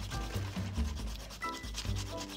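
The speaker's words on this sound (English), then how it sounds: "Let's take this word right here, which is penguin, and let's rub it." A brush rubs back and forth over a typewritten word on paper, a steady, close, scratchy scrubbing with rhythmic strokes that fills the whole moment without any talk.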